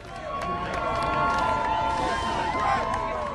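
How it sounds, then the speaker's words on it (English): A large crowd celebrating on election night in Washington Square Park, a dense roar of cheering voices and babble at moderate distance, steady throughout with a few rising shouts. "This is sound from Washington Square Park, Lewis's last stop on election night"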